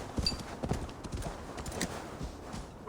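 A horse gallops in the video game Assassin's Creed Valhalla, with quick rhythmic hoof clops repeating close and fairly loud, accompanied by soft breathy snorts.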